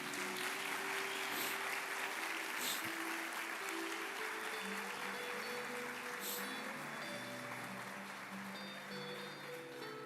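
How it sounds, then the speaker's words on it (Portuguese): Sustained applause from a crowd, steady clapping that fades slightly toward the end, with soft music in the background. "Uma salva de palmas para ela, pode bater palma."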